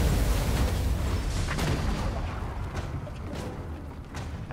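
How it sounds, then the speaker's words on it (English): An explosion hits a steam tank in Total War: Warhammer, a loud, rumbling blast that fades into crackling battle noise over several seconds. "Let's see if we can put an explosion on the steam tank."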